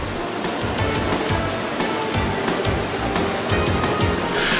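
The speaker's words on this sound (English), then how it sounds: "Water comes from everywhere and then flows as one until it is again divided and plunges down to the next level." A waterfall in Turkey tumbles down rock levels: a dense, continuous rushing roar of falling water, loud and close, steady throughout with no voices.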